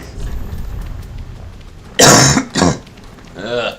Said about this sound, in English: Pollen's got me coughing like crazy.